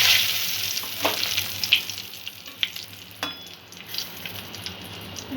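Dry red chili and bay leaf tempering in hot oil for Bombay duck (loitta) fish curry on medium-low gas, a steady sizzle punctuated by a few scrapes of a spatula stirring, close and without talk.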